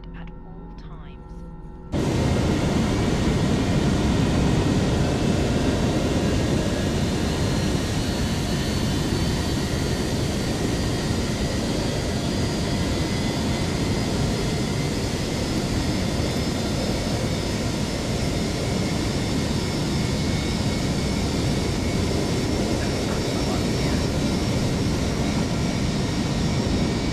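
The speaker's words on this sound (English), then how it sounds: "We have a good engine start." An Airbus A319 with IAE engines in Microsoft Flight Simulator, running after start: a steady, loud jet roar with a faint high whine holds unbroken for over twenty seconds after a short quieter opening.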